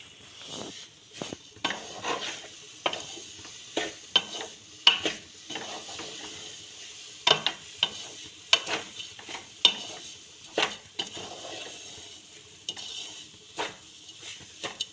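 Makhana and dates are stirred with honey in a pan, giving repeated scraping and clinking strokes of a utensil against the metal at a steady, uneven rhythm, fairly close, with a faint sizzle underneath and no talking.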